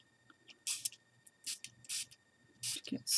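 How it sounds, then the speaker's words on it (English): Short bursts of a spray bottle misting water onto a gesso-coated journal page, several quick hissing pumps in a row, close and fairly crisp in a quiet room. "I'm just going to spray on a little bit of water."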